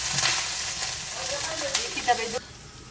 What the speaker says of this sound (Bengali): আর কেন ডিপ ফ্রাই ছাড়া নর্মাল ফ্রাই করা আবার একদম কম তেলে চিকেন নাগেটস আর ফ্রেঞ্চ ফ্রাই।